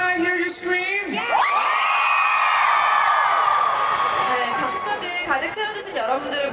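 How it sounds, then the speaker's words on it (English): Festival crowd at an outdoor music festival in Los Angeles, screaming and cheering loudly in a sustained roar with high whoops rising over it, as an emcee's voice carries through the noise. "Can I hear you scream?"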